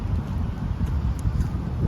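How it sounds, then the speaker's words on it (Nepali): Cold night wind blows outdoors in Kuwait near the Alkut Market seaside. A steady, rumbling microphone buffet fills the short stretch without a break, and no voices are heard. "मौसम फेरि एकदम राम्रो छ क्या आज फेरि मस्त हावा चलिरहेको छ"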